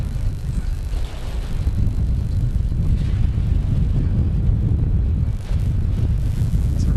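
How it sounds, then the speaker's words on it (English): A strong gust of wind buffets the microphone at an outdoor soccer match, a loud, rumbling low roar that stays steady for several seconds with no voices over it. "Real gust of wind just sweeps through here. I'm sure you can hear it on the microphone"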